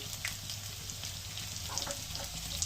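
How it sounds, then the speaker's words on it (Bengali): A dry red chilli and radhuni seeds hit hot oil for tempering and crackle in a steady, faint sizzle with scattered small pops, continuous throughout without speech. "একটা শুকনো লঙ্কা ফোড়ন দিলাম একটু রাঁধুনি ফোড়ন দিলাম"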